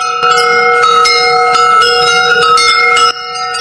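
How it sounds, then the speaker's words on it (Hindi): A bell rings loudly and steadily with a sustained tone and strikes repeating over a few seconds, ending with a sudden drop in level. "पूरे गांव में घंटी की आवाज गूंजने लगी।"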